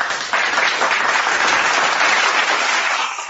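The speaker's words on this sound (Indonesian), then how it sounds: "Tepuk tangan penonton." Audience applause fills the room in a dense, steady wash of clapping from a large crowd, loud and close, sustained for a few seconds and then easing off slightly at the end.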